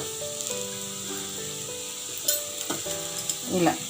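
Ragi dosa batter sizzles and crackles steadily on a hot pan, a close, continuous frying hiss with a few sharper bursts of spattering toward the end, over faint background tones.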